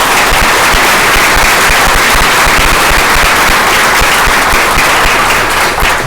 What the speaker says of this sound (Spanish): Vamos a dar un fuerte aplauso a la dirección.